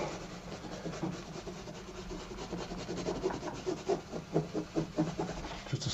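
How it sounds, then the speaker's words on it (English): A tissue rubbing over oil paint on a canvas, blotting up excess oil in a painted hillside area, gives a soft, close, papery scrubbing that runs steadily and grows into rhythmic strokes toward the end, with no talk. "I'm just going to get a tissue, just scroll it up a little bit and just rub"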